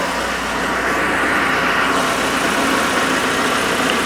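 A 1981 Alfa Romeo Spider Veloce engine idles steadily at close range, a continuous even running note with no speech over it.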